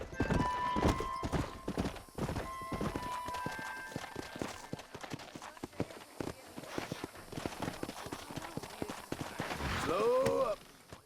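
Horse hooves clip-clop steadily in the Red Dead Redemption video game, mixed with game ambience. Talk runs underneath, and a horse whinnies near the end.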